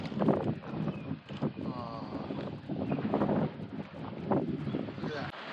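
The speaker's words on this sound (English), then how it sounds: "Look at that. It's very windy." Heavy wind buffeting the microphone in loud, rumbling gusts while riding a Triumph Tiger 900 GT Pro motorcycle in mountains near Falls Creek, Victoria, Australia, with a voice talking underneath.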